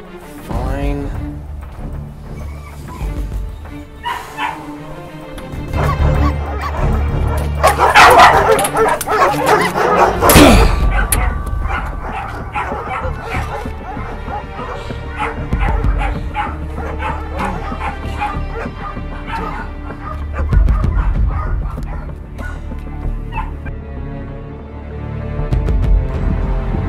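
Several dogs bark, yip and whimper in a tense short-film scene, the barking loud and close, in repeated bursts and overlapping, with voices speaking now and then underneath.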